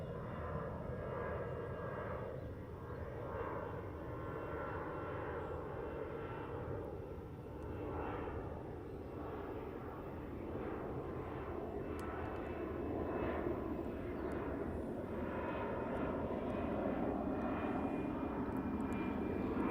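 A fixed-wing airliner departs Heathrow Airport runway 09R with a steady, broad engine roar that swells slightly over about twenty seconds, heard from a distance outdoors with no talk.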